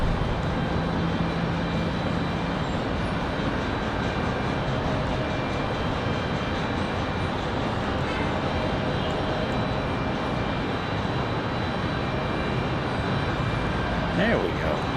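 A JetBlue airliner passing at Raleigh-Durham International Airport, heard as a continuous, even engine roar that holds steady throughout, with a faint whine near the end.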